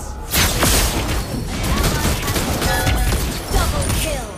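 Granger's rapid bullets in Mobile Legends rattle in a dense, continuous barrage of loud gunfire under busy game effects and announcer voice lines.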